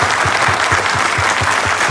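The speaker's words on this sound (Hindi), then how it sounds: "टीम के लिए बहुत जोरदार तालियां बजाएं।" Loud, close audience applause for a team, vigorous continuous clapping with a regular rhythmic beat of claps running through it, no voices.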